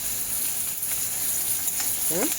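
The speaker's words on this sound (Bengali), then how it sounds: "লাল করে ভেজে নিতে হবে" Onions frying in a pan for a chicken dish, a steady close hiss of sizzling oil running throughout, with a brief scrape of stirring near the end.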